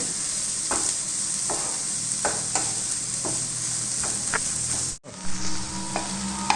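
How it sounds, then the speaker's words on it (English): Fried onion being mixed with gram flour in a pan for masala bread, a soft steady sizzle broken by repeated scraping strokes of the spoon, with a brief knock of the pan near the end. "So now I have just fried this onion and mixing with this."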